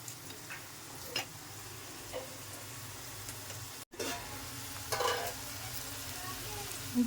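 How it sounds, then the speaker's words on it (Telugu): Coriander leaves fry in a pan, a faint steady sizzle with occasional soft scraping stirs and small clicks. "కొత్తిమీర అలాగే వేపుకోవాలండి"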